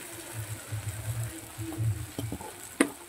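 Tomato puree poured into a hot frying pan sizzles and bubbles in uneven bursts, close by, with a few sharp clinks and scrapes of stirring near the end.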